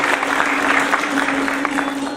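Loud applause from a ceremony audience welcoming a student from Jabalpur, Madhya Pradesh, at a convocation and induction event, dense steady clapping filling the whole moment alongside a faint steady hum.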